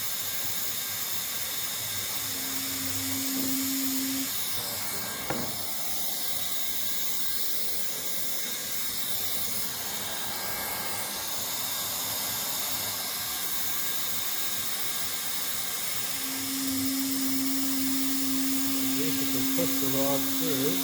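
A hot-air plastic welder heats its tip and the plastic of a black water tank for a van conversion, giving a continuous hiss and airy blowing throughout, with a steady tone coming and going and a brief knock midway.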